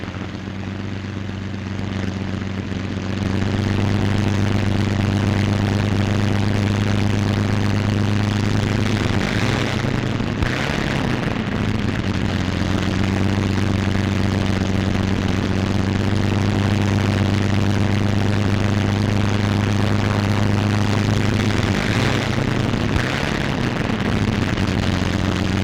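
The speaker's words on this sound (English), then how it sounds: "Plane taxis to its own hard standing, widely dispersed around the field." A P-47 Thunderbolt fighter plane's radial piston engine runs steadily as the aircraft taxis on an airfield in 1943, a loud, even propeller drone with a low rumble that holds for the whole stretch.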